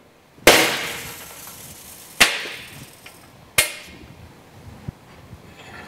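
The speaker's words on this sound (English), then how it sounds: "I'm then going to use that nail as a punch and put a small divot right in the center of that square." A nail used as a punch taps a divot into aluminum sheet metal: three sharp, ringing metallic strikes spaced about a second and a half apart, each decaying briefly, followed by a fainter tap, with no talk.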